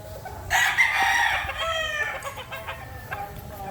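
A gamefowl rooster at a breeders' gameyard gives one loud, nearby crow lasting about two seconds, followed by quieter clucks against a faint outdoor background.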